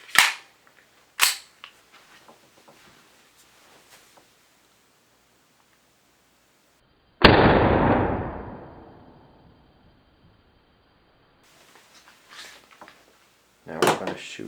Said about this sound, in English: first we're going to shoot the .12 Colts into the ballistic gel.